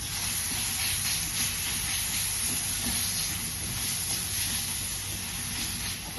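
Garlic-chili thecha for vada pav frying in hot oil, producing a steady, soft hiss like steam that runs unbroken and fairly quiet throughout, with no voices.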